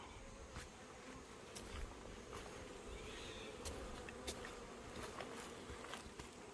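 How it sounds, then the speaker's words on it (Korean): Honeybees buzz steadily around outdoor beehives near an awning in summer, a dense continuous hum of many insects with a few louder passes close by, no talk. "뒤에 벌이 헤매고 있습니다"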